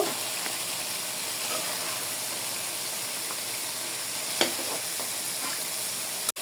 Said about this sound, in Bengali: ভেজে রাখা তরকারি মশলার সাথে একটু ভালোভাবে নাড়াচাড়া করে নেব